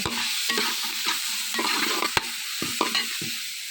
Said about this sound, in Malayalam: നമുക്കിതൊന്ന് ഈ പച്ച സ്മെല് പോകാൻ വേണ്ടി നല്ലോണം ഇളക്കി കൊടുക്കാം